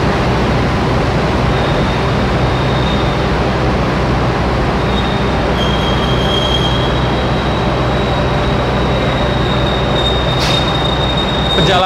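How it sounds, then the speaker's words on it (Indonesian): Singasari executive-class train pulling into Madiun station, heard from inside the carriage as a steady loud rumble of wheels and running gear with a faint high squeal of wheels on rail in the second half. "Perjalanan kereta api Singasari sudah tiba di stasiun Madiun."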